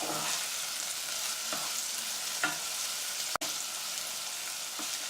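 Onions and garlic frying in a pot for split pea soup, a soft continuous sizzle with occasional stirring scrapes and one sharp click, heard up close without speech.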